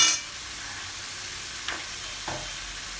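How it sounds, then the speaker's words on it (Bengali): Masala for Bengali chicken curry sizzles steadily in a pan, a constant hiss with two faint clinks from stirring partway through. "দিয়ে মশলাটাকে একটুখানি ভেজে নেব"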